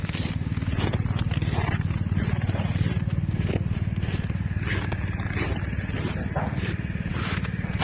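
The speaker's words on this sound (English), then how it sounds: "we need that compressor for the air tools for the floor" An air compressor runs steadily near an aircraft, powering air tools for floor work in a hangar, giving a continuous loud mechanical drone with a rough pulsing rumble that never lets up.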